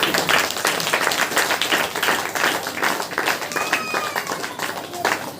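A church congregation claps in rapid rhythm during a worship meeting, dense and continuous, with a voice calling out praise in Hindi over the clapping.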